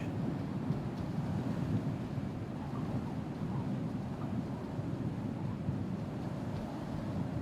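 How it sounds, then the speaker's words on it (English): Strong wind blows steadily in the Star Citizen space game, a constant loud rushing roar with no breaks or gusts standing out, filling the whole stretch. "It's really windy."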